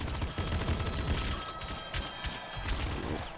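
Rapid pop gun fire in the video game Nuclear Throne rattles in quick, dense bursts mixed with crunchy impacts and small explosions, a busy chaotic mix at moderate level.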